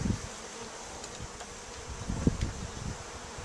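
A steady buzz of honey bees hums throughout while a colony is hived, with a few louder thumps and bumps near the middle, like bees swarming close by.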